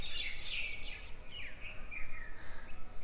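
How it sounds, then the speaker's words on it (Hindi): Birds chirp and call from a rooftop at dawn, a scatter of bright tweets and short whistled phrases, moderately near, with no talking. "छत पे पक्षी बोल रहे हैं"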